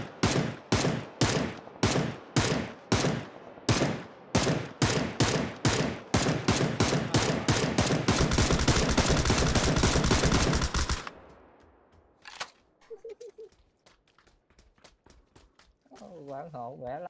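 Video game gunfire: fast bursts of shots in a regular rhythm build into sustained automatic fire that cuts off abruptly, leaving a quieter stretch with faint sounds and a brief voice near the end.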